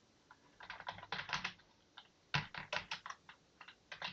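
Code being typed on a computer keyboard in quick bursts of close, crisp key clicks with short pauses between runs of keystrokes, no talking.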